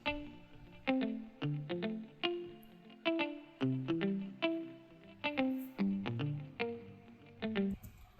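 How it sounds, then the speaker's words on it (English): A virtual acoustic-style guitar from Ample Guitar plays single plucked notes with the low end cut at 93 Hz, each note sharp and ringing briefly in a steady, melodic sequence, quiet and alone. "It's ample guitar again, but I rendered it and it's singular notes."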